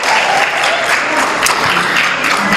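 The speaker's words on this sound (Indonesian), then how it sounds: "tepuk tangan dong" A dense, loud wash of audience applause fills the hall at the opening of a film forum event, steady and continuous throughout with no break.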